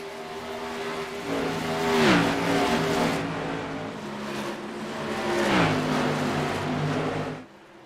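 Modified race cars roar through a final lap in Iowa, engines revving loud and steady with two rising surges as the pack passes close, then cutting off abruptly at the end.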